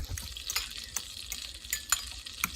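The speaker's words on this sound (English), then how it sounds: "And you see our pan is sizzling." Steady sizzling and crackling of eggs frying in a hot pan, with a few sharper pops and spatters, close by and fairly quiet.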